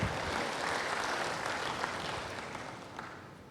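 A church congregation claps together in a dense, even wash of applause that holds steady and then slowly fades, with no speech over it.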